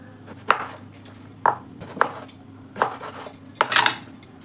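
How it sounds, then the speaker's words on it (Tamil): A knife cuts brinjal (eggplant) into pieces on a board, giving about seven crisp, separate chopping knocks at an uneven pace, close and clear with no talk. "ஒரு கத்திரிக்காவை 12 துண்டாக போடுறேன் நான்."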